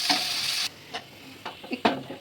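A ground paste of bottle gourd leaves and shrimp hits hot oil that already holds fried onion and garlic, giving a loud initial sizzle, then quieter frying broken by sharp spatula clinks and scrapes.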